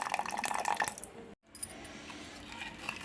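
Soaked tamarind juice is poured and mixed into an instant rasam made without oil or a stove, giving close, wet splashing and dripping, with a brief silent gap midway.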